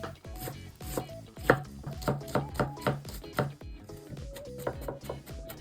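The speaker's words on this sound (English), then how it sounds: "Okay, I chop it very finely." A knife finely chopping food on a cutting board, producing a quick series of close, rhythmic knocks with a brief pause and then a lighter run of chops.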